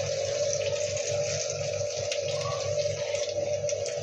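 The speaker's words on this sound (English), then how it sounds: "So we are going to go and drain them. Just in a colander." Steady running water pouring through a colander of drained fruit in a sink, a continuous close splashing wash with no pauses and no voices.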